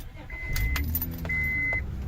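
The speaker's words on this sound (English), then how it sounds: "Start the engine." A 2003 Honda Odyssey minivan engine cranks and starts, a short close mechanical whir with a rising rumble, joined by brief electronic chime tones and light rattling inside the cabin.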